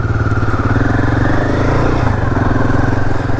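A motorcycle engine runs loud and close as the bike sets off, holding a steady, throbbing idle-to-pull rumble for the whole stretch without any talking.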